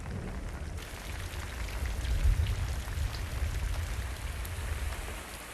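Heavy rain pours down steadily, a dense continuous hiss with a low rumble beneath, swelling slightly midway and no voices.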